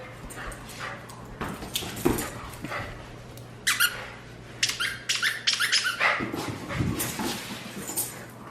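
A dog's squeaky toy gives repeated high squeaks in short bursts during a game of fetch, close by, mixed with the dog's soft whimpers and panting, with irregular pauses between squeezes.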